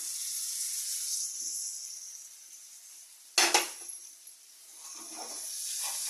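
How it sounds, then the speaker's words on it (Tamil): Chopped tomatoes dropped into a pan of softened onions for a potato kara kuzhambu, giving a sudden loud sizzle that fades into a soft, steady hiss. "இப்போ தக்காளியை போட்டு வதக்கிக்கலாம்."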